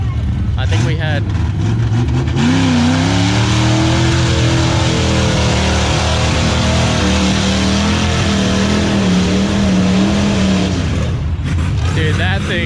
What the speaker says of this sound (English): Dude, that thing is a truck.